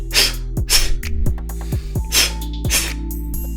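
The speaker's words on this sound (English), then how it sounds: "In fast motion, the breath control will sound like this." Rapid, sharp nasal exhalations in Taekwon-Do breath control during fast motion, several forceful bursts in quick succession, close and loud, with faint thuds under them.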